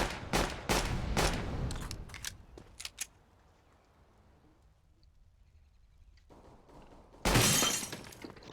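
An incendiary grenade bursts in a video game shooter: a few sharp, rapid cracks of gunfire early on, then a quiet stretch, then a loud, shattering whoosh of the grenade breaking near the end.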